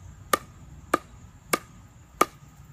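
Composite Selkirk Pro S1C pickleball paddle strikes a ball four times at an even, unhurried rhythm, each hit a crisp, close pop over quiet background.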